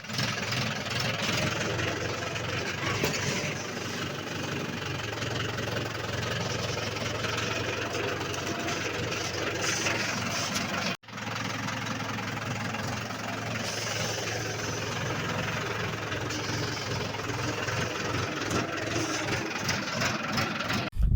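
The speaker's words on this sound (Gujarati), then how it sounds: "આપણે ટ્રેક્ટર લઈને આવી ગયા છીએ" A farm tractor's engine runs steadily at idle with a continuous low rumble and a faint knocking pulse, close and loud, with one brief dropout midway.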